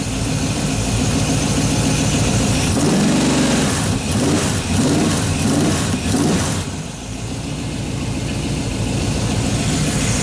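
A 350 Chevy V8 runs during break-in, its exhaust gaskets not yet burned in. It idles with a loud, close, chugging rhythm, revs up through several rising sweeps, then settles back to a steady idle.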